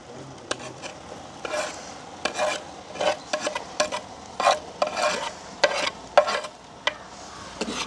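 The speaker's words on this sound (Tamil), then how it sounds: "நல்ல வடிவாக கலந்து விடுவோம்" A spoon stirs a pot of lentil curry with dried fish in a village kitchen, making repeated scraping strokes in an uneven rhythm over a low simmer, close and fairly loud, with no voices.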